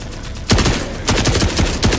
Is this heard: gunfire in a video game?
yes